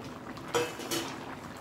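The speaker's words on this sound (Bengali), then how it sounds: "এই ভেজে রাখা আলুটা আমি দিয়ে দেবো এর মধ্যে" Fried potatoes drop into a pan of cooking food with two quick clattering knocks of utensil on metal over a soft, steady background simmer.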